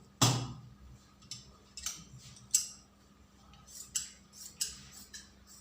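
Scissors snip through fabric while a girl's box pleat skirt is cut out, a series of sharp close crisp cuts spaced irregularly across a quiet room.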